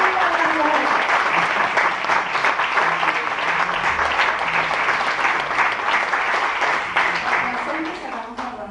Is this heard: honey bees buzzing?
no